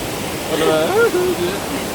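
A forest river in Rize rushes steadily as a constant watery roar, while a voice speaks briefly over it in the middle.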